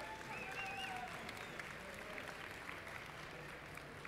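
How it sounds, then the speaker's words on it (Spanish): An audience at a Campus Party marketing talk applauds to welcome the speaker, a faint, distant and even wash of clapping in a large hall, with a brief whistle early on. "Vamos a recibirlo con un fuerte aplauso."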